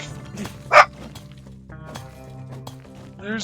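A dog in the farming game My Time at Sandrock gives a sharp bark with a short follow-up yip over soft background game music, with no talking at that moment.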